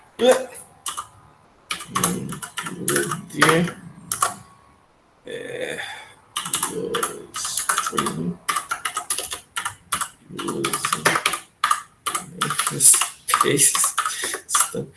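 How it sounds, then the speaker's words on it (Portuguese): Computer keyboard typed on with one hand, slow hunt-and-peck tapping in uneven bursts of clicks, close and clear, while someone talks over it. "Que a gente ficava catando milho no teclado, assim, para ver onde é que tá as letras."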